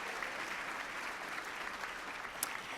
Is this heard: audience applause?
yes